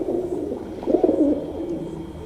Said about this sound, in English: he's playing at pigeon noises.